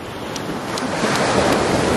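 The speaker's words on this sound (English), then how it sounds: "Oh, big wave coming." Ocean surf rolls onto a beach in a continuous loud roar of breaking water and churning foam, with a wave building toward the end, heard close with some wind buffeting and no talk.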